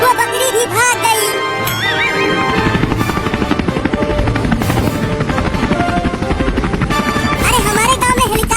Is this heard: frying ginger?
no